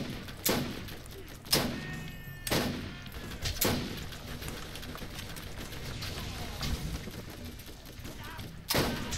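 Turret gunfire in the Borderlands video game: loud, sharp shots burst out at irregular intervals, roughly every second or two, over a constant background of game noise.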